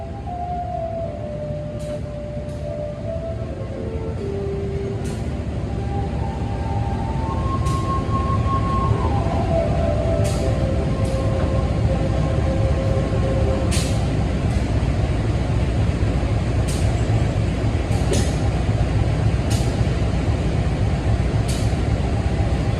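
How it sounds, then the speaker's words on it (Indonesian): The Argo Bromo Anggrek train pulls into Semarang Tawang station, with a long, loud low rumble of rolling wheels under a melodic horn or chime sequence early on, and sharp metallic clanks recurring throughout. "Kereta api Argo Bromo Anggrek tujuan akhir stasiun Surabaya Pasar Turi masuk"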